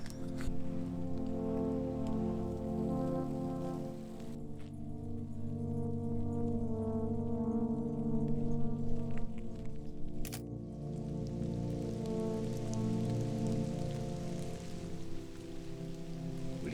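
Rain falls outside a cave during winter bike touring, a steady, fairly faint patter and hiss heard from inside with low rumbling underneath and no talking.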